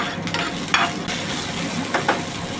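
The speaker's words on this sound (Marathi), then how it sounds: "त्याला परतून घेऊन हे आलं मिरची आणि लसूण तेलामध्ये हलकी" Ginger, green chili and garlic fry lightly in a little hot oil for a suran vegetable dish, giving a continuous close sizzle with a few brief stirring scrapes.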